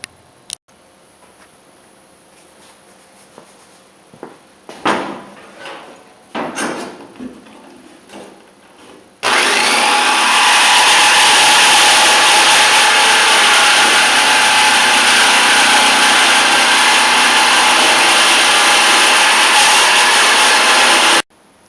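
A saw cuts through an aluminum drum lid with a loud, continuous, harsh metallic grinding that starts abruptly after several seconds of quiet handling knocks and clatter, then runs unbroken to the end.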